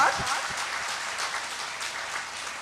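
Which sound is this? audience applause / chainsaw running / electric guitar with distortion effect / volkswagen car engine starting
audience applause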